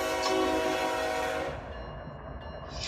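Locomotive horn in the Run8 train simulator game blares loud and sustained for about a second and a half, then cuts off and leaves a lower rumbling hum.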